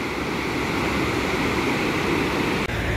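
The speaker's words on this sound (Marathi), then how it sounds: "इथून पण धबधब्याचा व्ह्यू बघता येतो." The Lech waterfall near Füssen, Germany, seen from a viewpoint above a bridge, gives a steady, dense roar of falling water that fills the whole stretch without a break. There is no talking.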